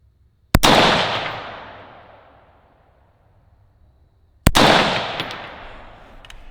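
Two sharp rifle shots fired during a scope-tracking test on a target range, each a loud crack followed by a long rolling echo that fades over several seconds, spaced about four seconds apart with no talking.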